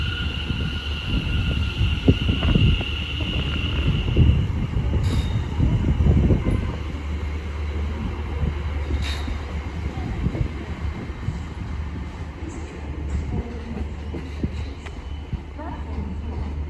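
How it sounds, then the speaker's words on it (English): Greater Anglia train departing Cambridge station on the service from London Liverpool Street to Cambridge North, its motor rumble and rolling wheels loud and steady at the platform, with a high tonal whine early and a voice speaking over it. "And now departing is the 12:52 Greater Wranglia service from London Liverpool Street to"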